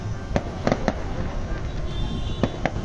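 Firecrackers burst at a Karthigai Deepam celebration in Arunachalam, several sharp cracks in loose clusters against a steady crowd murmur, some near and some farther off.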